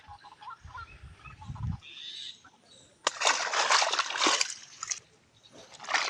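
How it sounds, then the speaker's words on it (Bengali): Water splashes and sloshes as feet are washed outdoors in a village, with brief bursts of splattering and a longer loud stretch of splashing near the listener. "পাটা একটু ধুয়ে নিই।"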